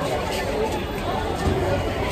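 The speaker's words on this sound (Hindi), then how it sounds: "भीड़ है स्टेशन पे" A crowd murmurs and chatters in a busy railway station at Tarapith, a continuous close babble of many overlapping voices with no single speaker standing out.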